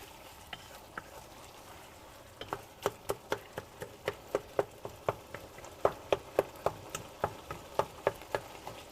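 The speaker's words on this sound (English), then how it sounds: "if you hear that noise, that's me chopping up some of that chicken." A knife chops cooked chicken on a board in a kitchen, a steady series of sharp, evenly spaced taps that quicken into a regular rhythm, heard alone over faint frying sizzle.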